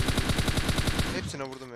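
Rapid automatic gunfire rattles out in an even burst of about a dozen shots in PUBG Mobile on the Miramar desert map, then cuts off as a voice begins speaking.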